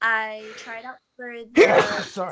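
A single sharp sneeze bursts out in the middle of a woman's conversational speech, loud and close, with talking just before and right after it.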